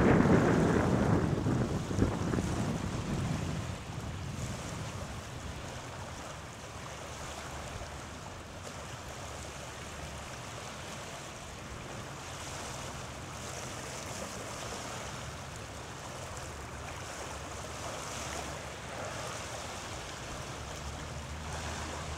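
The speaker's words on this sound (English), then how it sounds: "Wind blowing me." Wind blows across open water off Possession Point, a steady soft rush with lapping waves and gusty microphone buffeting, louder at the start and then settling to a low, even wash.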